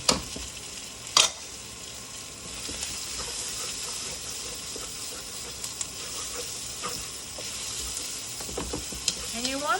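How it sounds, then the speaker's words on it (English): Onions, carrots and red peppers fry in a pan with a bright, steady sizzle; a couple of sharp clatters from stirring come early on, then a hissing bed with scattered small crackles. "you want to cook this until the onions are pretty much caramelized"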